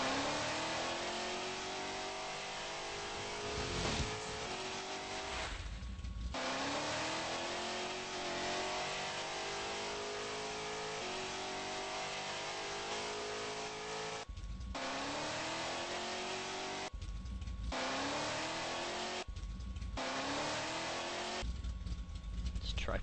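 A car engine in a driving video game revs up repeatedly, rising in pitch through each gear then dropping at the shifts, steady and loud with several short breaks, while someone talks at times.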